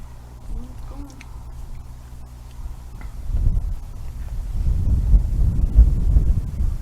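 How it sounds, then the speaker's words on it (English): Strong wind from an approaching storm buffets the microphone outdoors in heavy low rumbling gusts that build and grow louder toward the end. "It's really windy."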